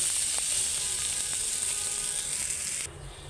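Potatoes frying in a pan give a continuous bright sizzle with a few faint clicks, quieting abruptly near the end.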